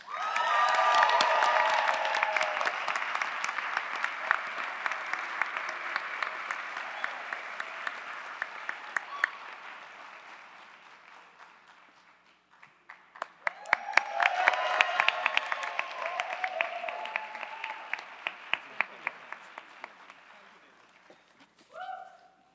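A graduation crowd at UC Berkeley's Goldman School of Public Policy commencement claps and cheers in two swelling bursts, the second rising sharply before tapering off, sounding somewhat distant in a large space, with a brief voice near the end.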